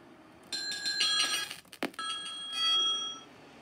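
A ringing bell used as the doorbell in the video game Hello Neighbor, with a metallic ring sounding twice in close succession and then a third fainter ring after a short pause, clear and alone with no talking.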